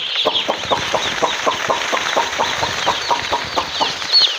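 Baby chicken chicks in a brooder, a close chorus of rapid, regular high-pitched peeps repeating about every quarter second, loud and alone without talk, with one brief higher chirp near the end.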